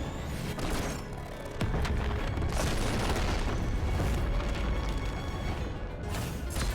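The Red-Eyes Dark Dragoon summon animation in the Yu-Gi-Oh Duel Links card game unleashes a loud, dense wall of rumbling booms and explosive blasts that barely lets up from start to finish.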